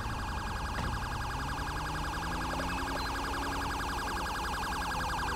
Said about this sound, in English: that guy's still running his siren back there